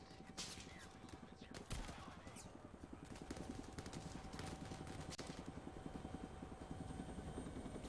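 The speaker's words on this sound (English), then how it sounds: "What happens if you shoot the helicopter?" Helicopter in the VR shooter Zero Caliber VR, a continuous close rotor thrum with steady chopping pulses, mixed with bursts of gunfire and game noise throughout.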